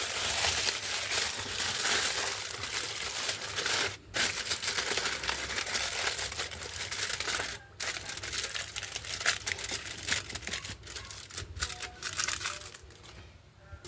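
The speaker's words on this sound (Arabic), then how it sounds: "عاملينهم بالورق الالومنيا اهوت مع بعض" Aluminum foil crinkles and crumples steadily while meat-and-macaroni baking dishes are wrapped for the oven, close and continuous, with a few brief pauses.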